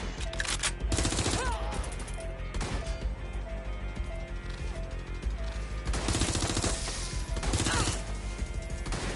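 Sustained gunfire in the Watch Dogs Legion video game, with close, loud volleys and repeated shots running throughout under game music and effects.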